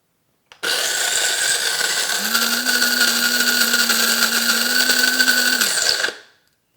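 A Mr. Coffee burr mill grinds coffee beans in one steady, loud whirring run of about five seconds, with a rising motor tone partway through, then cuts off abruptly into silence.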